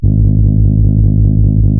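A heavy Serum synth bass, processed through the Soundgoodizer plugin in FL Studio, drones loud and distorted with a steady pulsing wobble, playing alone without voices.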